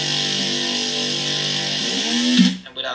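A harsh, buzzing synth bass note made in NI Massive with the Squealer preset and iZotope Trash distortion drones steadily, gritty and loud, then bends and cuts off near the end.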